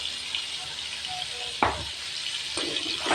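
Tadka of oil with turmeric, red chilli and salt sizzles loudly and continuously in a handi, a dense close frying hiss broken by a couple of sharp stirring clatters.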